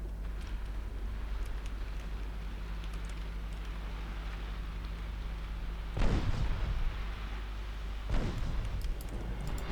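Naval artillery fire in the warship game Ultimate Admiral Dreadnoughts: two deep, booming salvos land about two seconds apart over a steady low rumble of engine and sea ambience.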